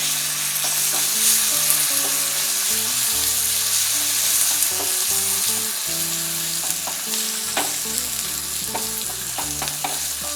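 Green chillies, curry leaves and dried red chillies sizzle steadily in hot oil for a Kerala ginger curry, a loud continuous frying crackle with occasional stirring clicks and no voices.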